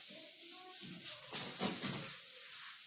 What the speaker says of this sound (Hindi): रब कर रहा हूं उसको